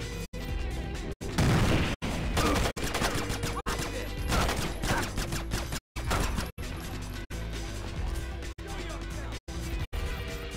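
Rapid automatic gunfire from the Splinter Cell video game rattles in loud, dense bursts separated by brief silent gaps, with speech faint under the shots.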